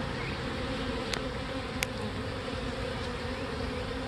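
Swarm of about 5000 honey bees buzzing steadily and densely up close, a continuous hum with a couple of brief sharper ticks, no voices.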